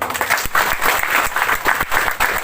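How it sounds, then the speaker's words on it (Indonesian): Indoor audience applause at a district COVID-19 vaccination and health outreach meeting in West Sumba, a dense burst of many hands clapping, fairly loud and steady, with a faint voice beneath. "Ya, tepuk tangan dulu."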